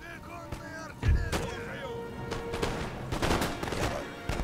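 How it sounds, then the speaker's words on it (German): Infantry musket volleys in Napoleon: Total War, heard as sharp crackling bursts of massed fire over a busy battle soundscape, with a voice faintly present. "Unsere Infanteristen schießen fleißig."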